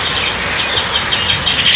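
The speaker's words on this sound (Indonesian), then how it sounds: "Wah, dibuka ada burung pentet." A young long-tailed shrike (pentet) from East Java, still being hand-fed, chirps in a continuous, busy stream of high, thin calls, close and fairly loud, with no talking over it.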